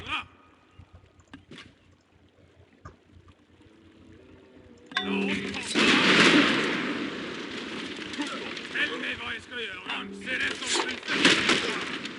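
Bombard artillery fires in the strategy game Civilization IV, a sudden loud cannon blast about halfway through followed by rumbling battle noise and crackling effects, after a quiet stretch with soft game sounds.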